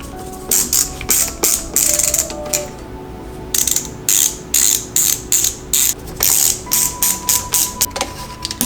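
Screws being driven with a ratcheting driver to fit the front dampers on a Tamiya TT02 RC car kit, with rapid repeated ratchet clicks in bursts, close and clear, no speech.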